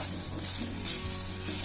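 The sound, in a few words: onion roasting and sizzling in an iron pan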